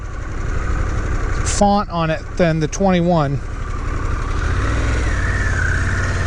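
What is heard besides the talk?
motorcycle engine idling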